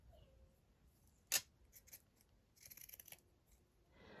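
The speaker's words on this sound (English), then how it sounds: "So I'll just take some of my lace and just kind of cut it down" Metal scissors snipping lace for a junk journal: one sharp, close snip stands out, followed by a few softer cuts and a quick run of rapid snips, all quiet and alone.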